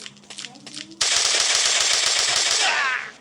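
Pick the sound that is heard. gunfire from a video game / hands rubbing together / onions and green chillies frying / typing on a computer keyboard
gunfire from a video game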